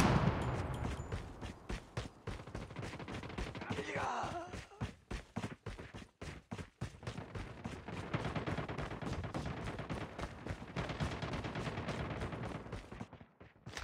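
Rapid bursts of automatic gunfire in the mobile shooter Call of Duty Mobile, dense repeated shots in quick rhythm with brief pauses, fairly loud and continuous across the span.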